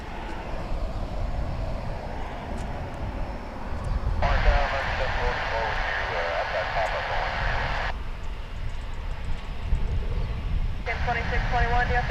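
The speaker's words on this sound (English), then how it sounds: "That was American Flight 2788 coming in from Colorado Springs" An American Airlines flight from Colorado Springs lands on runway 17 right, its engine roar a steady, loud drone that continues throughout, with a voice talking over it.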